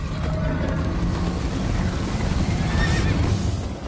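A horse in the video game Minecraft: Story Mode whinnies loudly over steady galloping hoofbeats and a constant rumbling background, the neigh rising and wavering near the end.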